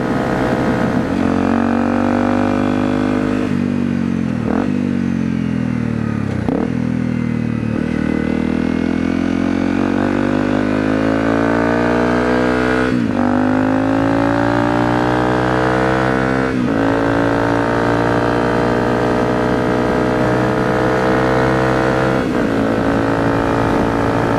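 A Honda CRF250L single-cylinder engine with 14/45 sprockets holds steady highway revs, a loud continuous droning hum with rising and falling harmonics and a few brief dips, heard alone close-up from the rider's seat for the whole stretch.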